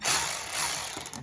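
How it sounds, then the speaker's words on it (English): A 1/2-inch socket ratchet working a bolt on an Ariens 1128 snow thrower, a brief close run of rapid clicking over a faint mechanical hiss, with no talk. "I'm going to try my ratchet"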